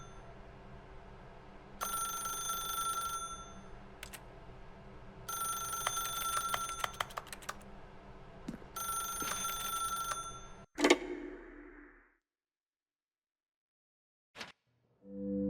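A telephone rings in The Stanley Parable Ultra Deluxe, three bursts of bright ringing separated by short pauses, followed by a sharp click, a fading tail, silence and a brief final tick.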